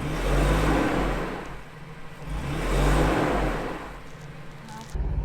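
A van drives across the Bonneville Salt Flats in Utah, its engine droning steadily with rising and falling swells of revving and a continuous rumbling road noise.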